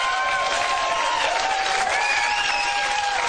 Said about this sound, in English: Apparently have a new right-wing cheering section here at the Tonight